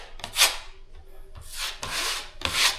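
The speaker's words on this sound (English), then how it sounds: "3 swipes on the screws. 1, 2, and then last one." A drywall knife swipes joint compound over screws on a drywall ceiling, making several loud, close scraping strokes separated by short pauses.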